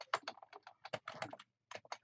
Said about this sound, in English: I type in whatever my website name is.